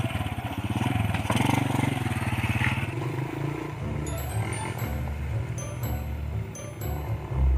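A motorcycle engine rumbles loudly up close with a throbbing idle and some revving, plus a few clanks and scattered voices.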